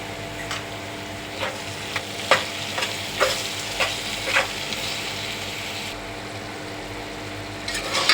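Tomatoes frying in a pan as they are stirred, with a steady low sizzle broken by repeated sharp scraping strokes of the spoon against the metal, alone with no voices.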